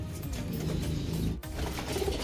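Racing pigeons cooing in a loft, a soft rolling coo repeated over a low rumble of background noise, close by with a brief gap midway.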